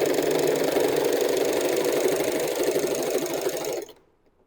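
Usha Janome sewing machine running a D stitch, rapid continuous mechanical whirring and ticking for nearly four seconds before stopping abruptly into silence.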